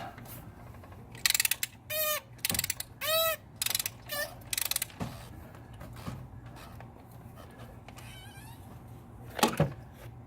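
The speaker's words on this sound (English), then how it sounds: "with just simply your little socket wrench and the extension" A socket wrench with an extension loosens the fuel filter on a 6.0 Powerstroke diesel, giving bursts of fast metallic ratchet clicking between quieter knocks and handling sounds, fairly close.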